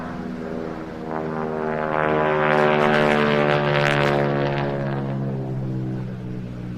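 A North American Harvard propeller aircraft flies past at an air display, its droning, harmonic-rich engine note swelling to a loud peak mid-pass and then easing slightly, heard alone without voices.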